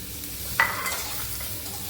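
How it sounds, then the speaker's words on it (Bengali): Pointed gourd with salt and turmeric fries in a pan with a steady sizzle, and a brief scrape of stirring cuts in partway through. The sound is close and moderately loud. "এবার কিছুক্ষণ এটা ভাজতে হবে।"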